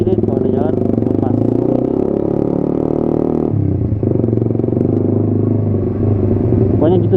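A Suzuki GSX-R 150 motorcycle engine hums steadily and revs during clutch practice, a loud, close drone that shifts pitch partway through, with someone talking over it.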